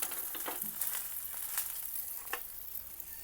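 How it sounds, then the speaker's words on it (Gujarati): A dabeli bun toasting in a little oil on a hot pan, giving a soft, steady frying sizzle with a few faint crackles, quiet and close, with no voices. "તો આપણે હવે શેકી નાખશું એને."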